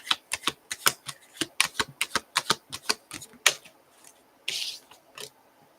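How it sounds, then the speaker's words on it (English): A tarot deck is shuffled and a card pulled, a rapid series of crisp card slaps and riffles followed by a short sliding swish as one card is drawn. "I'm going to pull a card and see what happens"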